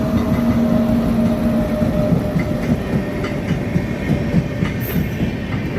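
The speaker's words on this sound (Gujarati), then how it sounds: "ટ્રેન જાય છે" A train rolls past close by near Pokhran, Rajasthan, a steady heavy rumble with rhythmic rattling of wheels on track and a faint squeal near the end.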